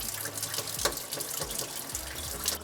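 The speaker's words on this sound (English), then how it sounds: "I'm going to let it rinse for a further 9 minutes and 20 seconds" Tap water runs steadily into a bowl of sushi rice being rinsed, a continuous close splashing wash with a few brief gushes and no voices.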